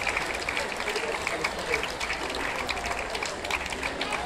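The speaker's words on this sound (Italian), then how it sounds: "Facciamo un grande applauso per lui" A crowd applauds an athlete at a record attempt outdoors, moderate, fairly distant clapping mixed with general crowd noise and some talking.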